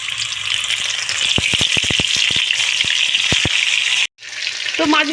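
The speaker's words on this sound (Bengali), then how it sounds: "তো কড়াতে তেল দিয়ে দিয়েছি, তেল গরম হয়ে গিয়েছে, মাছগুলো ছেড়ে দেবো।" Rohu fish pieces sliding into hot oil in a wok give a steady bright hiss with sharp pops and spits, a brief drop to near silence, then the sizzle returns close and loud.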